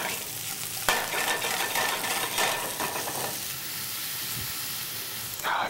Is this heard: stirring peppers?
yes